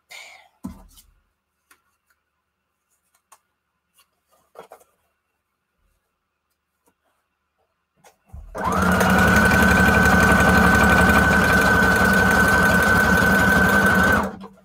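A sewing machine stitches through paper embellishments for a craft journal, running as one loud, steady, unbroken whir for about six seconds after a long near-silent stretch with only a few faint taps.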